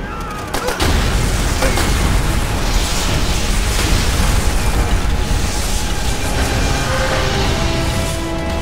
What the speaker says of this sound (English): Tell me those charges weren't duds.